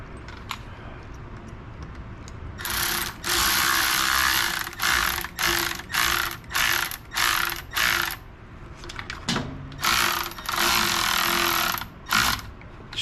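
Ratchet wrench snugging bolts back onto a Husqvarna chainsaw during a repair, a run of close, loud ratcheting bursts with short pauses between strokes, no talk.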